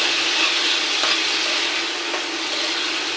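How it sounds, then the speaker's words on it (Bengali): Shrimp frying in pangas fish oil with a piece of pangas fish belly, a loud, steady hiss of sizzling oil, close and continuous, with faint stirring knocks. "একটু ভেজে নেব আমি এখানে একটু পাঙ্গাশ মাছের তেল আর হচ্ছে পাঙ্গাশ মাছের একটা যে বুকের যে ইয়া থাকে ওইটা দিয়ে দিলাম"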